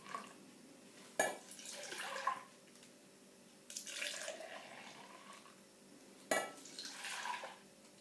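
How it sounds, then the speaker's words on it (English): Liquid is poured back and forth between glasses several times, each pour a short splashing trickle starting with a soft clink of glass, separated by quiet pauses. "you can just pour it a little back and forth between the glass"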